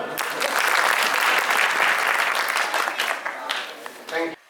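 An audience claps throughout a Hindi comedy poetry show, a dense, steady burst of applause that holds strong for about four seconds before thinning out and stopping abruptly.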